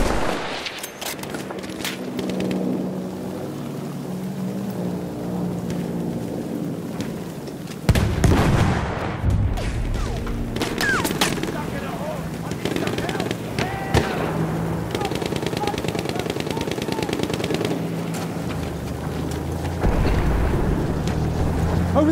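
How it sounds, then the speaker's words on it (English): Bursts of machine gun fire mixed with explosions and battle noise in Battlefield 1 sound continuously over about twenty seconds, loud and dense, with a heavy blast near the middle. "Spot to the machine gun!"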